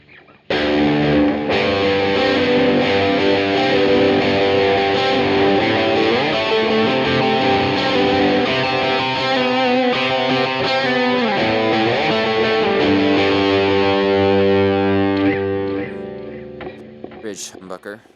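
Electric guitar on the neck humbucker through a Rat distortion pedal, a thick, heavily distorted chord ringing out loud and sustained for many seconds before fading, with no talking.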